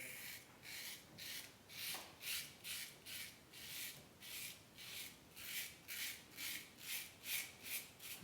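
A Parker 66R safety razor scrapes through facial stubble in a cold-water shave, giving about fifteen rhythmic rasping strokes at a regular pace, close and fairly quiet.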